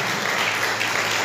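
A church congregation claps together during worship, a dense, steady wash of many hands sustained throughout without pause.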